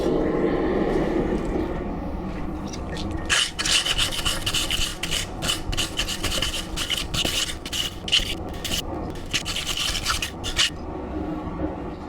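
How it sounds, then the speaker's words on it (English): A hot forged steel bar being wire-brushed, a steady scratchy rasping texture that starts after a few seconds of low background rumble and continues in rough, repeated strokes up close. "I'm gonna throw it back in the forge, get it nice and hot and give it a quick brushing."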